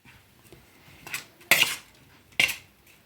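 A spoon clinks and scrapes against a bowl while desiccated coconut is mixed into a sesame mixture, with several sharp metallic knocks standing out over quiet background.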